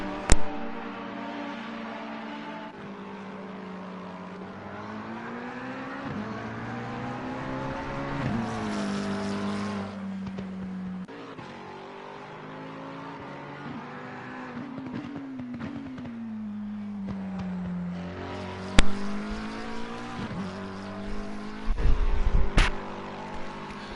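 Race cars lap a track in a racing video game, among them the number 7 McLaren, engines droning and shifting pitch continuously with rising and falling revs, brief sharp bursts and a loud cluster of noise near the end.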